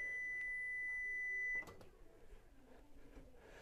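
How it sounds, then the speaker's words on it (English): A steady high electronic beep like a kitchen timer rings for about a second and a half, then stops, leaving faint room noise and soft handling sounds. "there's our timer"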